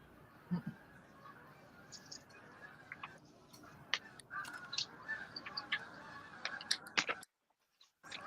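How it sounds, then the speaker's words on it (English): Canada geese honking in faint scattered calls at a distance, with quiet background noise between them and a sudden cut to silence near the end. "sounds like Canada geese"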